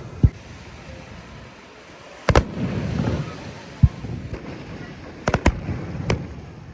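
Fireworks at a celebration with a concert go off in a few sharp bangs and crackles over a low wash of wind or surf, with faint crowd noise in between.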